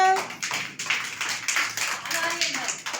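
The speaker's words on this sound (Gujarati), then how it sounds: "હાલો તાળી વગાડો" A group of young children clap their hands in a steady rhythm during a preschool activity, the claps dense and continuous, with voices mixed in underneath.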